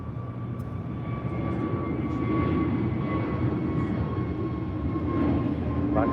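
An Avianca A320neo airliner takes off at LAX, its engines giving a steady, loud roar with a faint whine that swells slightly partway through, with no one talking.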